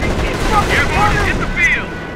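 Machine gun fire rattles through a Company of Heroes battle, a dense wartime din of gunfire and explosions mixed with shouted unit voice lines, loud and continuous across the moment.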